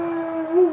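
A dog lets out a single brief, steady howl, close and fairly loud, with a slight rise in pitch near the end.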